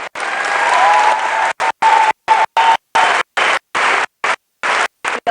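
A workshop audience in Maryland breaks into louder, fuller applause, a dense burst of clapping that swells early and then continues in choppy stretches broken by brief gaps.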